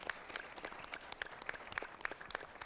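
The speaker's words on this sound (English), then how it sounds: "I'd like to give a round of applause for this amazing panel and for Dr. Porter." Symposium audience claps for a panel on hacking democracy and technology, a fairly faint, dense patter of many hands with a few sharper claps standing out, steady throughout.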